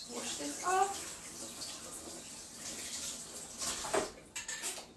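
Water runs from a tap as a container for a tofu and cashew vegan dessert is rinsed in a kitchen sink, a steady splashing stream with a brief clink near the end; a voice talks quietly.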